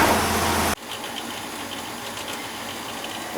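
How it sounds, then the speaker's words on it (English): An old gas furnace's exhaust fan makes a steady mechanical whir with a faint rattle, humming on its own after a louder burst of noise cuts off abruptly. "That's the exhaust fan."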